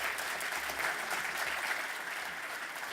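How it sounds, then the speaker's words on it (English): Audience at an awards ceremony for a young people's sustainability film challenge clapping, a dense, steady round of applause from a large crowd that holds evenly throughout. "What a round of applause for all of the young people so far."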